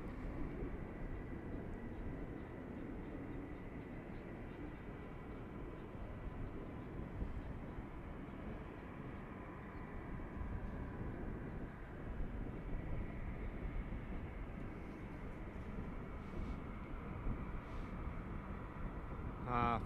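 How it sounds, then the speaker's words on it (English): Jets approaching to land at Van Nuys Airport in California, a steady, distant broadband roar that holds at an even level throughout without clear peaks. "A few jets coming to landing."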